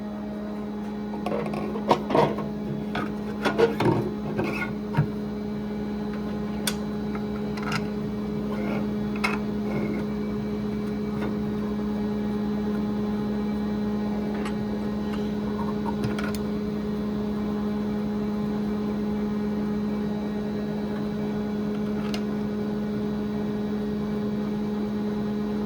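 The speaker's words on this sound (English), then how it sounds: "Got the air compressor going on in the background" An air compressor runs in a machine shop, a constant steady hum lasting the whole stretch, with scattered clicks and clatter of parts being handled early on.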